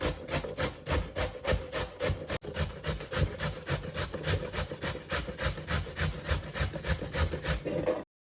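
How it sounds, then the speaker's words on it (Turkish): Peeled pumpkin is rubbed against the coarse side of a kitchen grater in fast, even back-and-forth strokes, a steady rhythmic rasping close by, briefly pausing once before stopping at the end. "soyduğumuz kabaklarımızı rendemizin kalın tarafıyla rendeliyoruz"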